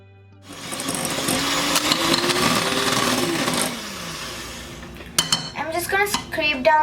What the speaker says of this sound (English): we're going to cream the butter and sugar with the hand beater